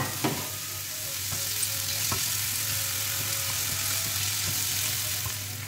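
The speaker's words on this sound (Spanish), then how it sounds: "Aquí vamos a sofreír los tres dientes de ajo y la cebollita." Three garlic cloves and a small onion sautéing in olive oil in a pan, a loud, constant close-up sizzle with a few faint clicks of a utensil.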